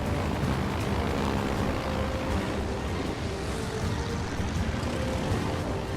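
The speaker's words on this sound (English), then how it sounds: "we launch with a squadron of torpedo bombers" A squadron of torpedo bombers launches from an aircraft carrier in World of Warships Legends, a steady, loud droning roar of propeller engines holding throughout without pause.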